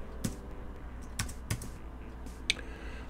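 Several separate keystrokes on a computer keyboard, clicking at an uneven pace against a quiet room background while entering values in FreeCAD, with no talking.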